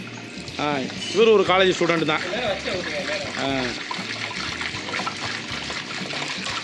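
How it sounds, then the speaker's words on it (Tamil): Water poured from cans into a large pot of chicken biryani at a college food festival, heard as a steady splashing pour that runs through the clip while people talk over it. "நம்ம இப்போ வந்து என்னென்னா 2 கேன் தண்ணி ஊற்றிக்கலாம்"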